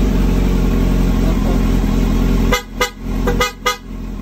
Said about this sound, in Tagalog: Busina, boss.